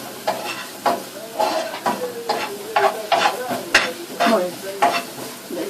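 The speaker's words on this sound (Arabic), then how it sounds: "نديروها مع الدجاج غير غنشحراتها بشويه ديال الزبده" Chicken sautéing in butter in a pan, a steady close sizzle broken by repeated scraping and stirring strokes at a regular rhythm, with no talk over it.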